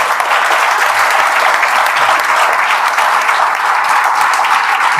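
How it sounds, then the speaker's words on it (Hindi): Sustained applause from an audience clapping for a man named Deepak at a village gathering honouring IIT students, dense and steady throughout with no voices over it. "तो एक बार दीपक जी के लिए ताली बजा दीजिए"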